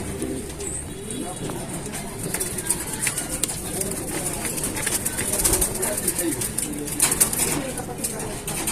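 A large pigeon bred for size coos close by, its low soft calls repeating throughout, mixed with people talking nearby and occasional higher chirps.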